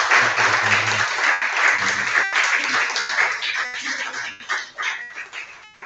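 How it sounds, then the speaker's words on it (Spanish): Audience applause fills a hall at a national artistic congress session, steady and dense clapping sustained throughout, with some softer thinning patches toward the end. "Damos un aplauso."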